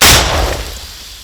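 A single powerful anti-tank gun blast bursts out close and loud, followed by a rumbling decay that fades over about a second.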